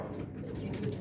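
Racing pigeons cooing at a crowded Manila club with roughly 13,000 birds, a dense, steady murmur of soft coos layered over one another at close range.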